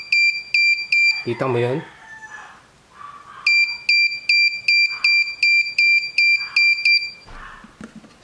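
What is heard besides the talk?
electronic buzzer picked up by microphone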